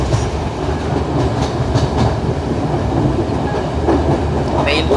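A train rumbles steadily along the rails with a continuous rattling clatter, loud and close, with faint occasional voices underneath, on a passenger train travelling from Jaffna to Mount Lavinia, Sri Lanka, passing through the Colombo area.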